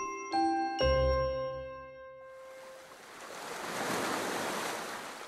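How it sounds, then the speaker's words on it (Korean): After two bright chime tones, soft waves wash onto a sandy beach and lap against rough rocks, building into a gentle, steady rush of surf. "모래사장으로 밀려드는 하얀 파도가 울퉁불퉁한 바위로 부드럽게 닿습니다."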